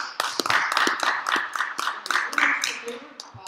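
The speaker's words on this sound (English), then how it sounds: "Give a big round of applause, ladies and gentlemen." A small live-stream audience claps with sharp, fairly sparse hand claps spread across the whole stretch, close and lively, with a few voices mixed in.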